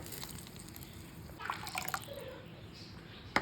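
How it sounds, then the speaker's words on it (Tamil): Water splashes and trickles into a pan of Mangalore fish gravy in a few short bursts, with light dripping and background hiss; no talking. "கொஞ்சம் தண்ணி ஊற்றி நம்ம கழுவி ஊற்றிக்கலாம்"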